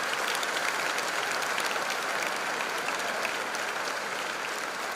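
Sustained applause from an audience at a freshers' induction program, dense steady clapping filling the whole stretch with no pauses.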